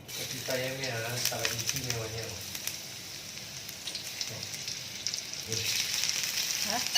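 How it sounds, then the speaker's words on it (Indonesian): Shallots and garlic sauté in hot cooking oil with a steady, close sizzle and crackle throughout, while a voice talks briefly over it. "lanjut kita tumis dulu ya teman-teman ya. Bawang merah, bawang putih."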